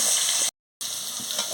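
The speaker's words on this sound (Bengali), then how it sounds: "আমি কুমড়াটা ভেজে নিচ্ছি।" Pumpkin pieces fry in a pan with a constant hissing sizzle. The sizzle is cut by a short silent gap partway through and then carries on at about the same level.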